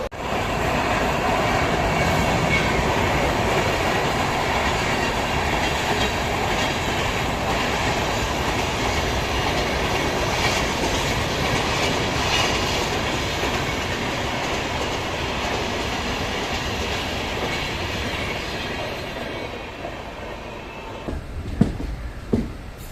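Continuous rumble and clatter of an express train rolling along the tracks at a Mumbai railway terminus, steady and loud, easing off near the end with a few sharp clanks.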